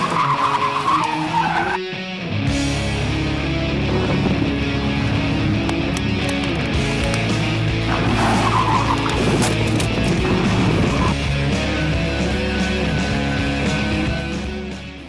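Racing cars roar past on a track, engines droning continuously with tire squeal and skidding bursts, loud and sustained throughout with brief dips as cars pass.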